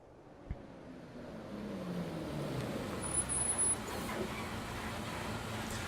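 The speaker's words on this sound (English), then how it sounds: "The sound of an engine brought me back to reality. A bus pulled over." A bus engine in a visual novel video game rumbles and grows closer as the bus slows and pulls over, with a faint hiss midway and distant road noise.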